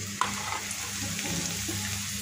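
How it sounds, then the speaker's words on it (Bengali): Onion and garlic fry in a wok for a prawn dish, giving a steady, close hiss of sizzling oil with a faint low hum beneath and one brief clink near the start. "এখানে যে কড়াইতে পেঁয়াজ রসুন ভাজতে দিয়ে দিয়েছি"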